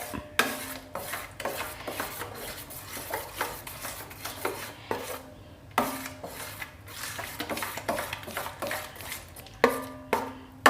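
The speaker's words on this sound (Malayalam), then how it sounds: "ഇത് നെയ്യിൽ വരട്ടിയെടുക്കുക. കുറച്ച് നേരം നമുക്കൊന്ന് ഇളക്കി അതിൻ്റെ വെള്ളമയമൊക്കെ ഒന്ന് മാറ്റിയെടുക്കുക." Mashed banana being stirred in ghee for pazham pradhaman: a close scraping, rubbing stir of a spoon against a pan, repeated strokes with occasional light metallic clinks, steady throughout.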